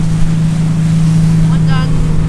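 A speedboat, a RIB, runs through Hamburg harbour with a steady loud engine drone, wind buffeting and rushing water close by.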